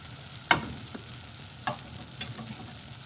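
A thin dosa roasting on a hot pan gives off a soft steady sizzle, broken by three crisp scraping taps as it is loosened and flipped.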